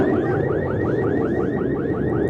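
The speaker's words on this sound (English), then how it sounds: "Burglar alarms were set off." An alarm set off by the 1989 San Francisco earthquake wails in a fast, repeating warble of rising sweeps, loud and continuous over a dense background roar, with no voices.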